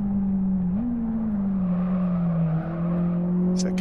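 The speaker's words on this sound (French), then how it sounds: "Ça grince un petit peu, les pneus." Car tires squeal and grind through a fast corner at around 120 km/h, a sustained tonal whine that shifts pitch over a loud steady engine drone, with a brief voice near the end.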